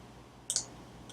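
Two quick computer mouse clicks in close succession, faint and near in a quiet room, followed by a softer tick a moment later.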